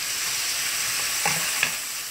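Garlic and onions frying in a pan for pork belly adobo, a steady close hiss of sizzling oil with a couple of soft stirring clinks, no voices.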